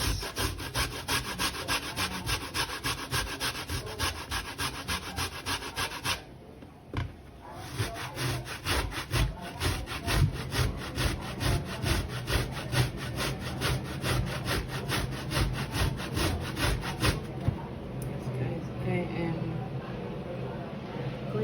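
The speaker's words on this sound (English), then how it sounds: "So my potatoes are washed and clean. Now it's time to do the grating." Sweet potatoes grated by hand with a fast, rhythmic rasping scrape, loud and close, with a brief pause partway through.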